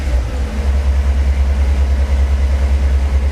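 A 1966 Ford Bronco engine running with the choke off, a loud, steady low rumbling idle heard up close with a continuous even drone and no voices.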